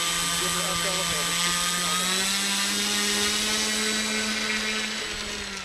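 The engine and propeller of an RC FunCub model airplane hold a sustained, high, whining buzz on a windy day, a steady tone that drifts slightly in pitch as throttle changes and fades a little at the end.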